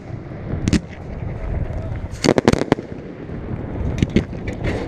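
Fireworks at a 4th of July pyrotechnic show, heard from the firing crew's position: repeated sharp launch thumps and bursts in irregular clusters, with a fast volley near the middle over a steady background rumble.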